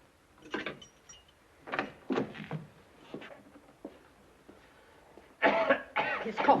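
A man's harsh coughing fit, a run of close, rasping coughs and throat clearing in irregular bursts, growing louder and more strained toward the end.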